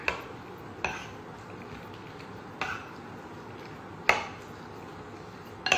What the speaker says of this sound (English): So just stirring that around.